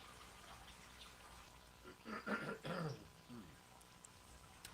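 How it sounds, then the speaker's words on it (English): One person clears their throat in a couple of rough, raspy bursts, close by, in an otherwise quiet room. "I always have to clear my throat 100 times when we start these things?"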